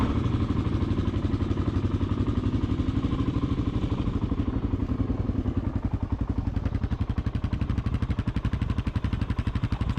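A Honda XR600R dual-sport motorcycle ridden off-road in Ethiopia, its big single-cylinder engine thumping in a loud, rapid, steady pulse close by throughout.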